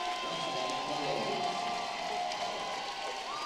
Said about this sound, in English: deserve a round of applause from the Mary Washington fans here for the seniors checking out of this ball game